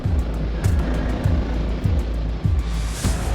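A helicopter hovers during an extraction in Crossfire Legion, its steady rotor and engine drone running loud and continuous. Rhythmic whooshing pulses sit under a few sharper game effects.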